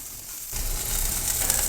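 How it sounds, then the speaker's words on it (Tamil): Spices sautéing in a pan for Tamil-style egg gravy, a soft sizzle that starts abruptly about half a second in and then holds steady and close, with no talk. "இதெல்லாம் நம்ம வதக்கிட்டு அரைக்க போகிறோம்."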